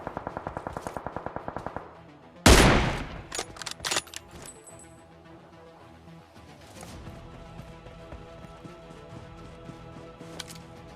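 Automatic gunfire from the video game PUBG Mobile opens with a rapid rattling burst, then a loud crack and a cluster of sharp shots with echoing tails, before sparser distant shots over a low ambient bed.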